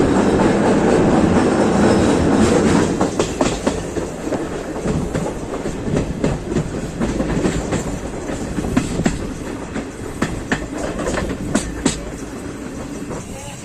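A passenger train on the Bengaluru to Visakhapatnam route runs along the rails with a loud continuous rumble and repeated clickety-clack of wheels over rail joints, no talking.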